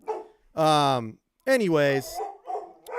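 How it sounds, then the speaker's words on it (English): A dog barks loudly at someone at the door, giving two long, close howling barks with a short gap between them, followed by someone speaking briefly. "that is my dog. If you can hear him,"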